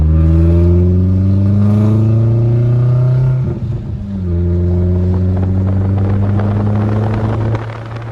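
A catless, straight-piped Audi A4 1.8T accelerates hard, its loud, raspy exhaust note climbing in pitch, dropping briefly during a shift, then rising again.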